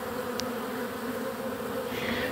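Honeybees swarm around a floating, drilled feeding platform on water outdoors, a dense steady buzz with a continuous hum close by and a brief sharp whine of one bee passing near.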